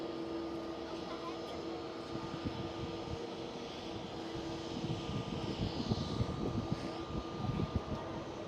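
A Transavia Airbus A321neo taxis toward the gate at Amsterdam Schiphol, giving a steady low engine drone with a faint tonal whine that stays close and holds throughout, with no talk.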